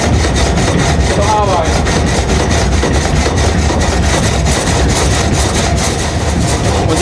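A historic water-powered sawmill's saw cuts wood with a loud, steady, grinding rasp, continuous and close for the whole stretch, with a rhythmic mechanical pulse underneath.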